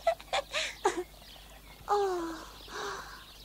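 Several birds call among pine trees, a run of brief chirps followed by longer tonal, whistling calls, moderately close and fairly faint against a quiet outdoor background.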